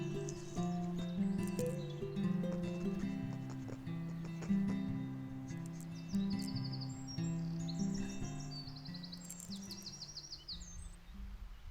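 Several birds sing and chirp in varied phrases in upland woodland in the Lake District, some high trilling notes near and others farther off, with a faint rustle beneath.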